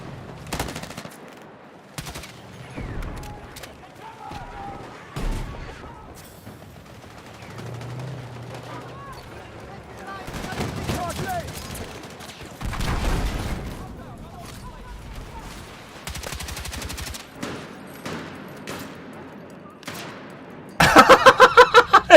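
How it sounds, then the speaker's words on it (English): An automated turret in Battlefield 6 opens fire in repeated loud bursts, ending in a fast, rattling volley, while players talk between the shots. "It's an automated turret."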